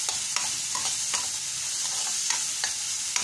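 Tomatoes cooking in a pan with browned onion for an Indian-style spinach curry, a continuous hissing sizzle punctuated by regular spoon-stirring clicks, no talking.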